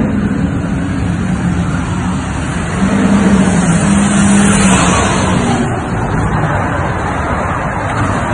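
Cars roar continuously during an on-set car chase shoot for Sonic the Hedgehog 2, with steady loud engine and road noise that swells in the middle as vehicles pass close.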